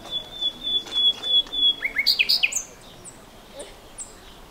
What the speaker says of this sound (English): Maybe that's one of the birds we've been hearing.